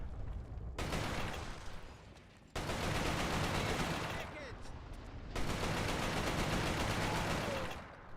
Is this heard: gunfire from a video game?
yes